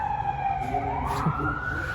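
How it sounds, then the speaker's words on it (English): A wailing emergency siren sweeps up in pitch on a street in Seoul, loud and fairly near, with traffic noise underneath. "siren alert"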